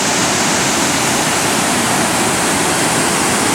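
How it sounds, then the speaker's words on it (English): Savica waterfall in Slovenia roaring as a steady, loud, full wash of rushing water that continues unbroken throughout, with no voices. "The falls is kind of pretty, and of course the sound is always exciting."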